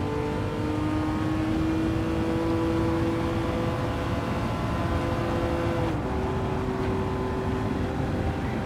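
Ferrari Testarossa engine in a racing video game, a steady droning engine note holding pitch with a slight rise, then a gear change shifting the tone near the end; continuous and fairly loud, with no talk.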